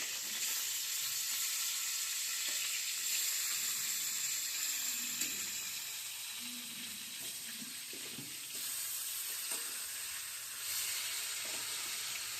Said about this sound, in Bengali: মাছ ভাজাটা এক পিঠ হয়ে গেছে, আর উল্টে দেবো